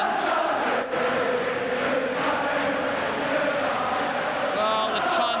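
Celtic supporters in a 53,000-strong stadium crowd at a Scottish Cup quarter-final against Rangers chant, sing and cheer in a loud, continuous roar.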